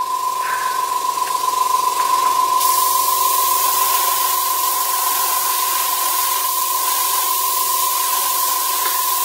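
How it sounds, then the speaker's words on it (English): Airbrush spraying paint onto WWII German jerry cans, a steady close hiss of air and atomised paint that runs unbroken through the whole stretch with no talking. "So let's get the airbrush on."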